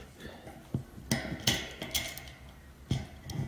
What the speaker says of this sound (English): using my little crescent wrench on the little bolt